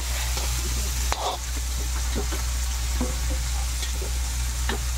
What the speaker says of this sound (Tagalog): magpapainit na ng mantika